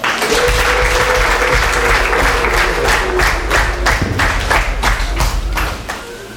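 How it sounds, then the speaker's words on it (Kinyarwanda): A wedding crowd applauds loudly and close by, many hands clapping in a dense burst that settles into a few rhythmic claps before fading. "Komera Imana amashyi"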